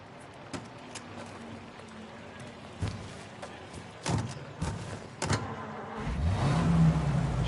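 A car in Mafia Definitive Edition drives with a low engine hum and scattered thumps and knocks, then the engine swells louder toward the end.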